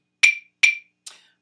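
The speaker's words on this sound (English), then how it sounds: "These are called clave, and the rhythm itself is called clave." Wooden clave sticks struck together in a sparse pattern: three sharp, bright clicks, the first two evenly spaced and the third softer after a longer gap, close and alone.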